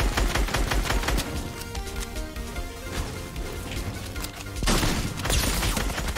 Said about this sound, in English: I just got sniped!